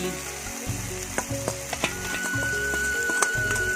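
Maggi instant noodles frying in a pan, a steady close sizzle with scattered clinks and scraping from stirring, and a thin high whine partway through.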